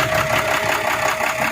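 A 6-cylinder FAW ten-wheeler truck engine fitted with an HHO kit, running at a steady idle with an even mechanical chug, close and loud throughout.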